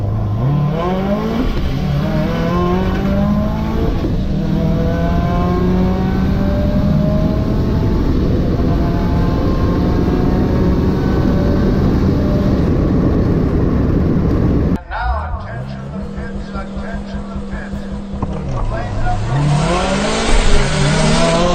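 A 2015-2019 Subaru WRX STI running on E85 launches and pulls hard through the gears, its engine note climbing in rising sweeps, then cutting off abruptly at a missed shift before revving again, loud and close from inside the cabin.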